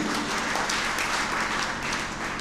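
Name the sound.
audience clapping at poetry gathering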